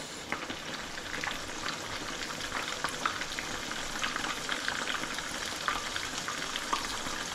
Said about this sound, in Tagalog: Tapos na yan, tapos magpiprito na ako guys, ha?